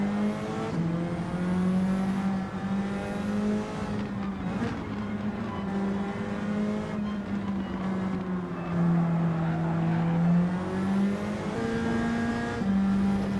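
Race cars in the Gran Turismo 7 video game roar continuously as they battle side by side, with a steady, loud engine drone and pitch that climbs and drops through gear changes, without speech.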